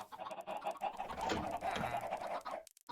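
Chickens clucking in the Minecraft video game, a steady run of repeated game clucks, fairly loud and close, with no talk over them.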